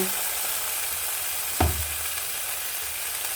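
Steak fries in a pan with a steady, soft sizzle and a single brief clatter near the middle, likely as the meat is turned; no voices.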